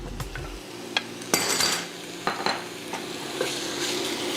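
Beef pieces sear and sizzle in a hot cast iron skillet over medium-high heat for beef and broccoli, a steady frying hiss broken by clinks and scrapes of a utensil stirring the meat, close and moderately loud with no talk.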